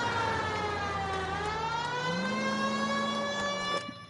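A police siren from the video game L.A. Noire wails steadily and loudly, its pitch sliding slowly down and back up before it fades at the end.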